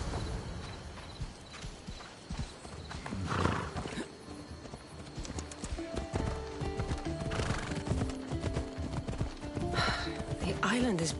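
A horse's hooves clip-clop at a steady riding pace in Assassin's Creed Odyssey, with occasional whinnies and voices talking over the rhythmic hoofbeats.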